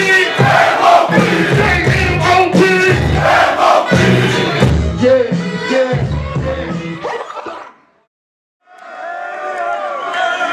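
A large hip-hop concert crowd in Belgrade, Serbia chants in rhythmic unison and cheers loudly, pausing briefly to near silence before the chant resumes.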